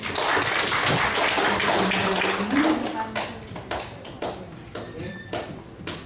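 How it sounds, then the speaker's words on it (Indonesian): An audience at a government sanitation monitoring meeting applauds, starting under a spoken voice and then thinning into scattered, separate claps that fade toward the end. "beri aplaus ya pemerintah"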